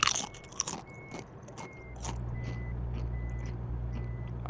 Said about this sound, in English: I'm gonna eat a chip here